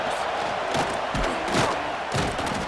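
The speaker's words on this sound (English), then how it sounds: "this crowd is feeling themselves after that last drive" Football stadium crowd roaring and cheering during a kickoff late in a game between the Illinois Yellow Jackets and Winnipeg Canadian Bucks, a dense sustained wash of voices with a few louder surges, heard without commentary over it.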